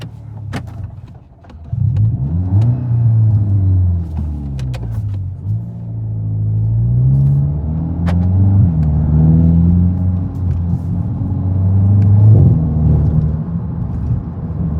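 A 2024 VW MK8 GTI with a muffler delete revs and accelerates from inside the car, a deep loud exhaust drone rising and falling through several pulls, with pops between shifts.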